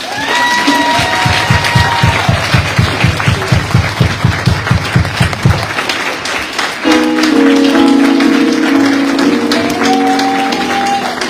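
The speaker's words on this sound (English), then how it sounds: "please give a massive round of applause to my best friend, Dr. Danessa Thomas." At a Women's Day 2022 gathering, an audience greets a guest speaker with loud, sustained applause, rhythmic unison claps at first, then fuller clapping mixed with cheers and whoops, close and energetic for over ten seconds.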